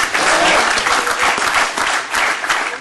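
Basketball fans attending a city council session applaud with sustained, energetic clapping that stays loud and even for the whole stretch, with a faint murmur of voices.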